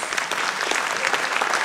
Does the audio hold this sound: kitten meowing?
no